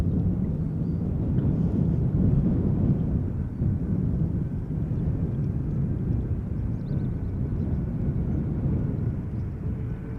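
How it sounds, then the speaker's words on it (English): A KLM Boeing 777-200ER, registration PH-BQF and twenty years old, arriving at Schiphol after a flight from Johannesburg, gives a steady, fairly distant low jet rumble that holds for the whole stretch with wind on the microphone. "KLM flight 592. 777-200 ER arriving from Johannesburg, South Africa"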